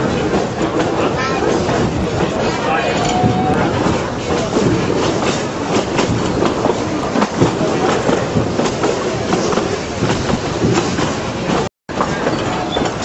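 Coal-fired steam locomotive train on the Durango and Silverton railroad rumbles loudly and continuously, with rolling clatter from the cars and a brief dropout near the end.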